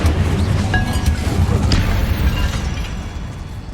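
A fiery Incendio spell bursts in Hogwarts Legacy, a loud, dense roaring blast that holds steady for a few seconds with faint crackles and a short tonal chime on top.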